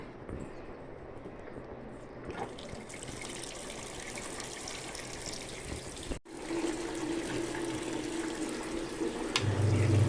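Water rushes steadily into a washing machine loaded with clothes, a continuous hiss that briefly cuts out and then resumes, joined near the end by a low motor drone.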